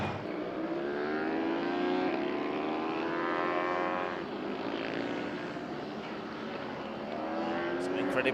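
A Suzuki Cup Europe race car at the Red Bull Ring runs wide and crosses a gravel trap, its engine droning steadily with rising and falling pitch and a commentator talking over it.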